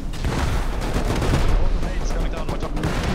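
Rapid gunfire in the survival game Rust during a base raid, loud dense bursts and booms crowding together close up, with voices talking over the shooting.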